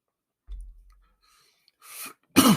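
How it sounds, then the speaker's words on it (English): Two short, harsh bursts about half a second apart, close to the microphone, after a brief low thump; no talking. "I'm coughing like that"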